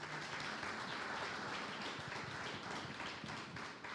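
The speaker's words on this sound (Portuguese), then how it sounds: "Aplauda o Senhor se você crê nisso." A church congregation applauds steadily for several seconds as a dense, even wash of many hands clapping at moderate loudness, with no voices standing out.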